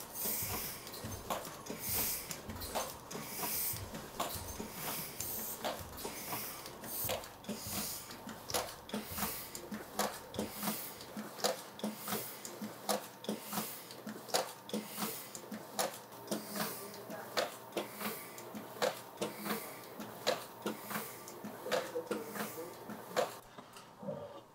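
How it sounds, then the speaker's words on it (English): Ink running through the rollers of a letterpress printing press, a rhythmic series of soft, sticky clicks and slaps repeating steadily at close range over a quiet mechanical hum. "I judge how much to start with based on how the ink sounds as it runs through the rollers."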